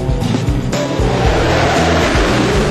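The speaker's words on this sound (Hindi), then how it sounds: "हवा में कलाबाजियां खा रहे थे बेहद हाईटेक जंगी जहाज और हेलीकॉप्टर" Fighter jets and helicopters perform aerobatics at the Aero India 2013 air show, a loud continuous roar of jet and rotor engines filling the air with no voices.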